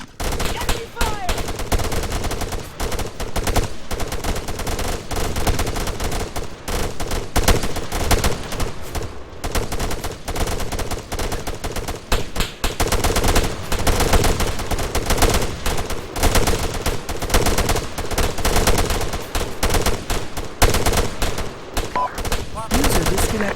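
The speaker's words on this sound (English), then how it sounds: "Enemy fire!" Sustained automatic gunfire from enemies in ARMA III squad combat, dense overlapping bursts and shots rattling loudly and almost without pause for over twenty seconds.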